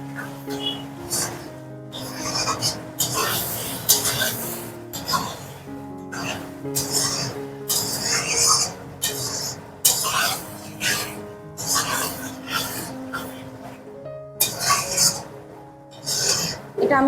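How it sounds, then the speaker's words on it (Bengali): A spatula scrapes and stirs fried potatoes into a red rohu fish curry in a pan, repeated rasping strokes in short bursts while someone talks over them. "আলুটা দিয়ে আমি 2-3 বার একটু নেড়ে একটু কষিয়ে নেব।"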